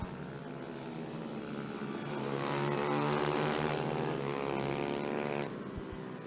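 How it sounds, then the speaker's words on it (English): Stock 140 racing motorcycles at a Fulbeck race meeting, engines whining as riders come off the throttle and downshift to third gear, the buzzing note rising to a loud peak then falling away as the bikes slow on engine braking. "as soon as he's off the throttle, they're cogging down to third gear, using that engine brake to slow the bike down"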